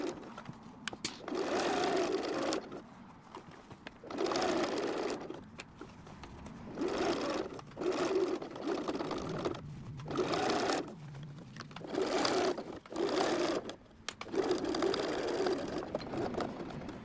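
A sewing machine stitches through a thick jeans hem in several steady whirring runs of a second or two each, separated by brief pauses as the fabric is walked through.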